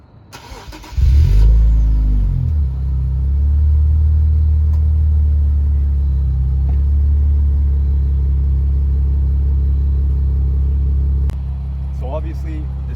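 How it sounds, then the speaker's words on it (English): An Infiniti Q60 Red Sport fitted with an Ark Grip catback exhaust starts up and settles into a deep, loud, steady idle rumble with slight rev swells, nearby and without talk. "let's go ahead and start it up real quick, do some revs"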